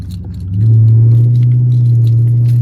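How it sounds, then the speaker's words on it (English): A loud second-generation Dodge Charger rumbles while driving through city streets. The engine swells at the start into a steady, deep drone that fills the cabin and holds for the rest of the clip, close and dominant, with no talking. "Like this car's so freaking noisy."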